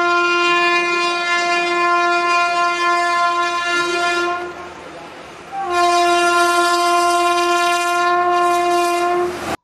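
A passing train sounds its horn loud and close in two long, sustained blasts with a brief dip between them, over a steady rolling rumble.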